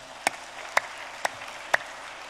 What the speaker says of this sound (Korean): 박수 한번 좀 쳐봐요